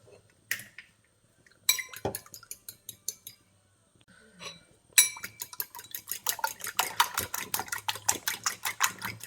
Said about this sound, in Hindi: फोक की मदद से मिक्स करके अच्छी तरह कबाबों में लगाऊंगी